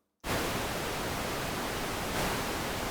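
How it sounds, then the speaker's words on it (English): Synthesized noise generated in Ableton bursts in abruptly and holds as a dense, steady hiss that fills the whole range, loud and unbroken apart from a slight swell near the end. "Okay, so we're just going to have noise, and I'm pretty sure we can play with the color."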